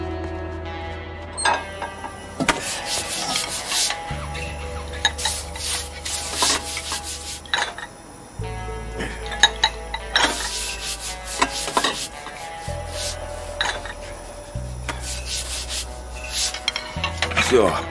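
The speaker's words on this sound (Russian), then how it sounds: "Помыть посуду." Dishwashing in As Dusk Falls: repeated scrubbing and rubbing strokes against dishes with clinks of crockery, steady and close, broken by brief pauses and a low background hum.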